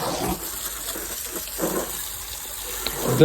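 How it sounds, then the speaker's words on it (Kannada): Steady rush of pressurized water washing a motorbike, continuously spraying close by, with some splashing bursts and no talking. "ನನ್ನ ಬೈಕಿ ಈಗ ಸ್ನಾನ ಫುಲ್ ಪ್ರೆಸರ್ ಐತೆ ನೀರು ಮಾತ್ರ"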